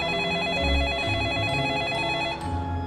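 A telephone rings with a steady warbling trill that repeats under low background music, fairly prominent, in a scene from the horror film The Ring.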